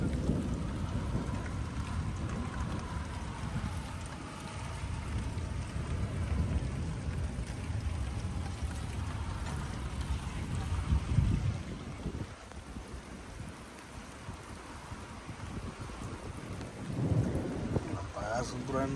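Heavy rain pours steadily while low rumbles of thunder roll beneath it, swelling and fading over a long stretch.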